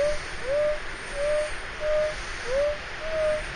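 A metal detector's mid-tone signal beeps about six times in steady pulses, some with a short upward sweep, over faint background hiss.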